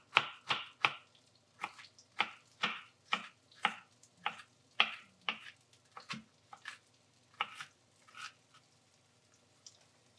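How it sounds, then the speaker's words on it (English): Onion chopped finely with a knife on a board, a run of about twenty crisp close taps in a quick even rhythm that slows and thins toward the end, no talking. "I'm going to chop up this onion fairly fine"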